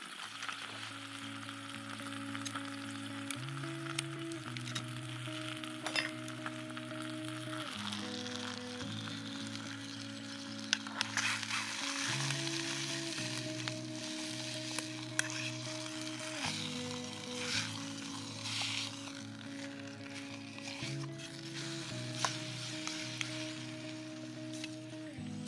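Food fries on a camp stove at a wild campsite in Gisburn Forest, a steady close sizzle lasting throughout with a tonal, music-like background underneath.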